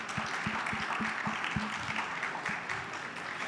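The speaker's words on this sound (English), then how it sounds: "A round of applause, ladies and gentlemen." Applause from an audience at a fashion and textile panel event, faint and distant, with a few distinct claps standing out in the opening two seconds over a steady room wash.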